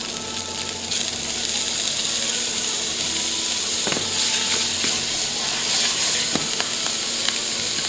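Lamb sears in butter with rosemary and thyme, a loud continuous sizzle and hiss from the pan with scattered sharp crackles and pops, no voices.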